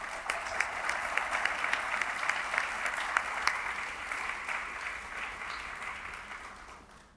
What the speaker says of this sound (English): Please join me in applauding the service of the Washtenaw County Youth Council.